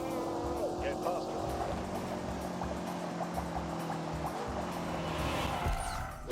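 A BMW engine drones at steady speed in the Grand Tour racing game on PS4, humming with gear shifts and road rumble, partly under someone talking.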